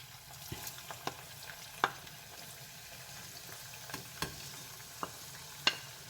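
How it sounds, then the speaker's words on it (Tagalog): A soft, steady sizzle of garlic frying in oil, quiet and continuous, with a few faint clicks and taps scattered over it. "Ipiprito na natin yung ating bawang."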